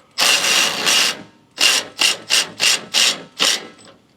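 Ratcheting clicks from a hand wrench tightening bolts on swaybar reinforcement brackets on a Jeep Gladiator: one long burst of ratchet clicks, a pause, then six short even bursts in steady rhythm, close and clear with no talk.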